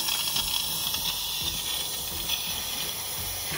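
Steam hissing steadily out of an Instant Pot through a steam diverter inside an RV, a continuous broadband hiss at moderate level with no speech.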